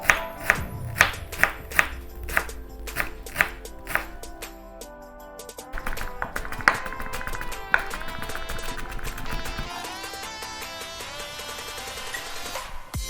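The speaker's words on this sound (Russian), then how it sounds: "нарезаем мелко-мелко." A knife finely chops cilantro stems quickly and steadily against a board, about a dozen sharp taps in the first few seconds, then softer cutting under a busy background.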